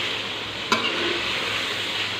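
Chillies and tomatoes fry in a hot pan for aloo chicken, giving a steady, close sizzle with one brief clatter near the start and no talking.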